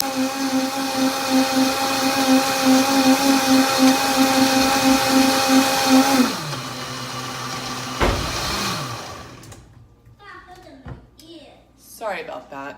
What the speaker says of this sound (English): and then I'm gonna move it to high, and then you'll get to see what happens